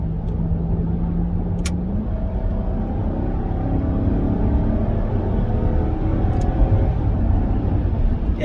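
A Jaguar XK engine idles with a steady, close, deep rumble, rising slightly in pitch as it is revved gently, with no one speaking.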